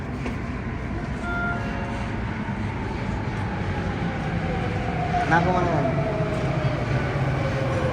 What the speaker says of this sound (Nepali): ऊ आयो ट्रेन।